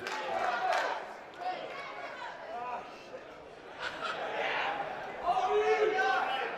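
Arena crowd at a Relentless Wrestling show cheering the fighters, rising and falling bursts of shouting and chatter, with commentary voices running underneath.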